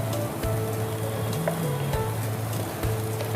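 Spices fry in a hot pan with a steady, soft sizzle that holds evenly throughout, close and fairly quiet, with no talking.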